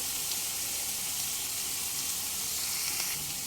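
Ginger, garlic and green chilli paste sizzles steadily in oil over a medium flame, a continuous close frying hiss with no talking, cooked for a Bengali doi katla fish curry.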